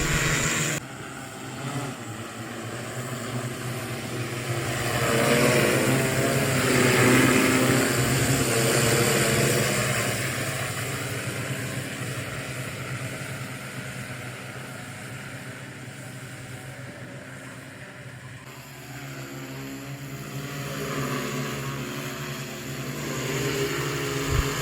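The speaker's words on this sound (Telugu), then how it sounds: "చాలా తక్కువ సమయంతో డ్రోన్ స్ప్రేతో ఇలాగ పొలం మొత్తం స్ప్రే చేశారు" An agricultural drone spraying a paddy field in West Godavari hums with a steady rotor drone, rising and easing as it passes, continuous over about twenty-five seconds with no voices.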